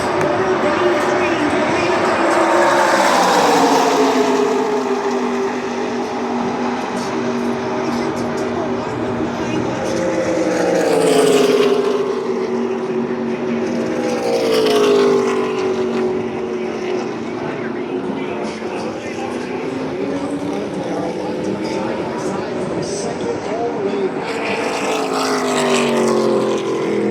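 Race cars run side by side past the grandstand at the 2025 Ride The Dente' 200, a dense, continuous engine roar with repeated rising and falling sweeps as the packs pass close by.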